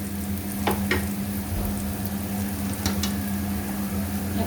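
Onions sizzle and fry in an open pan with the lid taken off, a steady close crackle with a couple of sharper spatters over a low kitchen hum.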